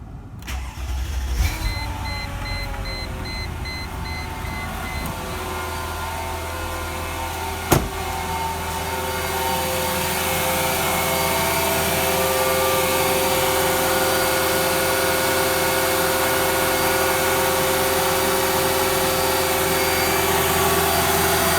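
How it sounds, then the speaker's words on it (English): A car engine cranks and starts after solid engine mounts were installed, then settles into a loud, steady close idle that builds slightly as it runs. "first startup after the solid mounts"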